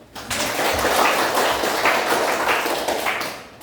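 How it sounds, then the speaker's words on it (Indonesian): A class audience applauds in a steady, dense burst of clapping that holds for a few seconds at close range before tapering off. "Tepuk tangan, terima kasih."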